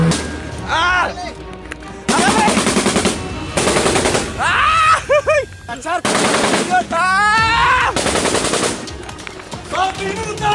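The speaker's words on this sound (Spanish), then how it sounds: "¡Hay balazos!" Loud, close bursts of automatic gunfire crackle during a Colombian marines training exercise, several sustained volleys separated by brief gaps, with excited shouting voices in between.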